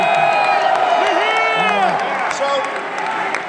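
A large rally crowd cheers and whoops continuously at steady volume, with voices rising and falling in a dense wash of shouting.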